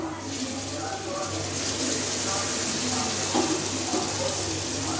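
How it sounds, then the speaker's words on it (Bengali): A little water hits a pan of reddened frying onions and green chilies for a chicken curry, producing a steady hiss and bubbling sizzle up close. "এখন আমি একটু পানি দেবো"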